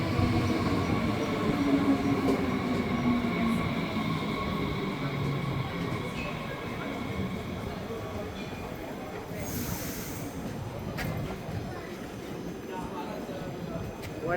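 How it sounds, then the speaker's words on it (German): An S-Bahn commuter train rides between Frankfurt-West and Rödelheim, a loud continuous rumble of wheels on track with rattling carriages, hissing and occasional squeals throughout. "Now we're gonna ride what is sometimes the subway,"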